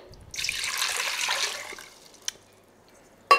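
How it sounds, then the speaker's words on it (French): Water gushes from a tap for about a second and a half, then stops, followed by a couple of sharp clicks; no one speaks. "Vous prenez 6 décis d'eau du robinet"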